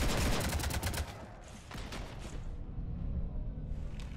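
Rapid bursts of gunfire from a shootout aboard a starship in Mass Effect 3, loud and dense at first, then thinning into continued scattered shots and rumbling battle noise.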